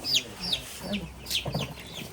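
Chickens cluck in short, choppy bursts close by, several birds overlapping, with faint background murmur.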